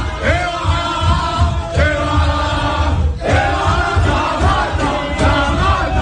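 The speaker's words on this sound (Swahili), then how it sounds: "Ni shangwe za wachezaji wa timu ya taifa ya Tanzania baada ya kumalizika kwa dakika 90 za mchezo" Tanzania national team players cheering and yelling together after a football match in Morocco, a loud, continuous mass of shouts and whoops with rising calls throughout.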